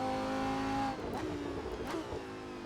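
A Lamborghini Super Trofeo race car at Donington Park in a racing sim revs under throttle, its tonal engine whine rising and then falling away into a rougher, quieter drone.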